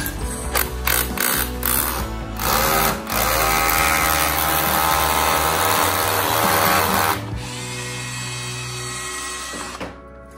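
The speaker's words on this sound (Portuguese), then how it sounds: "Eu vou fazer só mais um furinho para travar ela aqui em cima." Power drill boring a hole to anchor PVC conduit for a split air conditioner, a loud continuous whine with a few short bursts before a long steady run, then stopping abruptly.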